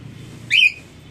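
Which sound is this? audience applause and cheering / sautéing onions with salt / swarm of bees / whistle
whistle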